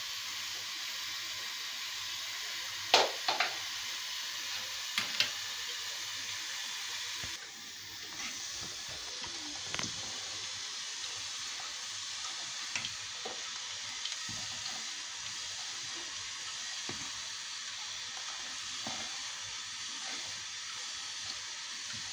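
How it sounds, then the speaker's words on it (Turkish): Rice pudding (sütlaç) bubbling in a pot on the stove, a steady close hiss of simmering with small pops and bursts scattered throughout, no voices. "Evet arkadaşlar, kaynıyor."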